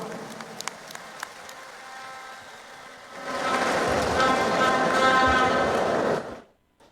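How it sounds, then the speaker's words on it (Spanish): Audience applause at a Bolivian peasant federation congress swells suddenly into a loud, dense clapping wash after a quieter stretch of light claps and room murmur, then cuts off near the end. "un fuerte aplauso a la comisión orgánica"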